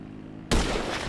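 A single sharp rifle shot in GTA V cracks out loud and close, a sudden broadband burst after near silence that lingers as a rumbling tail.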